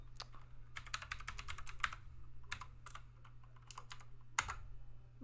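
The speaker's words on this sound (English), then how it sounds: "I'll type that in too." Fingers type on a computer keyboard in short, quick bursts of close, light clicks with brief pauses, fairly quiet and with no talking.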